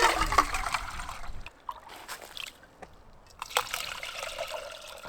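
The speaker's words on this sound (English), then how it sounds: "Fresh water." Fresh water trickling and dribbling from a hole dug in snow at a frozen winter campsite. The flow is faint and close, with small sloshing sounds and a few light knocks.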